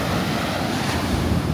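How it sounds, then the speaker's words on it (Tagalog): Strong ocean waves roll and crash on a Cancun beach in a continuous loud surf roar, mixed with wind buffeting the microphone. "Pero lakas ng alon guys, oh."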